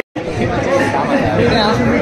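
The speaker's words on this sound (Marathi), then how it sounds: "गर्दी जाम आहे." Dense, loud crowd chatter fills a packed wedding reception hall, with many overlapping voices forming a continuous babble after a brief silent start.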